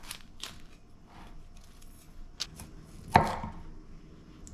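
A knife cuts through yellow and purple cauliflower on a board, with a series of crisp, irregular chops and one sharper, louder cut near the end.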